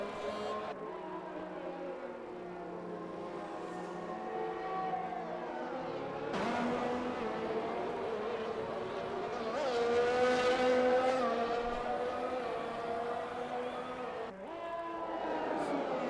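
Mercedes race car lapping the Great Britain circuit in a no-assist sim racing league, engine note rising and falling through gear changes over a steady loud drone, with a sharp shift near the end.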